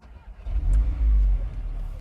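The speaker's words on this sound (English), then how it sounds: "So if I actually turn the engine on" A 2021 Audi S3 Sportback engine starting: a deep low rumble swells up after a brief pause and holds as a steady, fairly loud idle before easing slightly.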